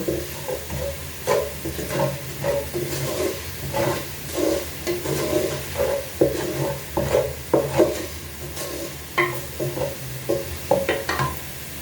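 Onions frying in a non-stick pan for pilau, a steady close sizzle broken by repeated scraping stirs of a utensil against the pan, with no voices.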